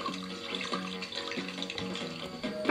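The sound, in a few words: watering can pouring water in Toca Life video game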